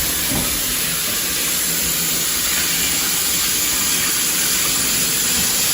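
A tap runs steadily while hands are washed at a home kitchen sink, a continuous close hiss of water with no pauses.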